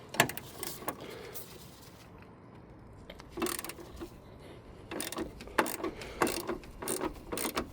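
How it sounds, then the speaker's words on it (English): Ratchet clicks and metallic mechanism sounds in irregular bursts as a bigger ratchet with an extension works loose a tight bolt on a Toyota Yaris Mk1 door, close by with pauses between efforts. "Try with a bigger ratchet. Get a bit more torque on it."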